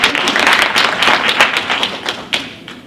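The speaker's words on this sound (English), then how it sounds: "okay, quick applause" Short burst of applause from a lecture audience, a scattering of distinct nearby claps that thins out toward the end.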